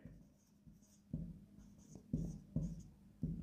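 Marker strokes squeak and tap on a whiteboard while a lead nitrate and potassium iodide equation is written out, a run of five or six distinct scratchy bursts with short pauses between them, close and fairly quiet.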